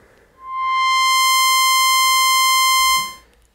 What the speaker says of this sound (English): not fluctuating at all, perfectly stable oscillator